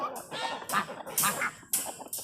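Geese and ducks honking and quacking at feeding time, a burst of loud nasal calls in repeated overlapping bursts, close by.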